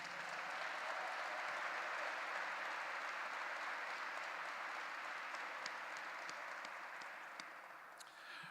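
An audience at a college diploma ceremony applauds the graduates. The steady clapping sounds fairly distant and continues evenly before tapering off slightly at the end.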